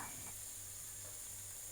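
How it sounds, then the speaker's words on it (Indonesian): Sauce sizzles steadily in a pan while being stir-fried for tempeh nuggets, a faint continuous hiss with no talking. "Lalu kita tumis sampai matang dan sausnya ini mengental."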